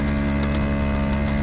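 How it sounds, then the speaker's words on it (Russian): A moped engine labors steadily uphill along a field road, a loud, continuous droning hum with no voices. "Мопед еле тянет в горку."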